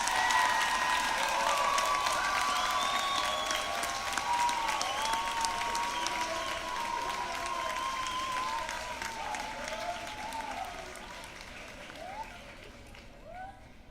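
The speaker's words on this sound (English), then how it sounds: "let's give all of our graduates a tremendous round of applause" A graduation audience gives graduates a long round of applause, a broad, sustained roar of clapping with some cheering and whistles, slowly fading toward the end while voices carry on underneath.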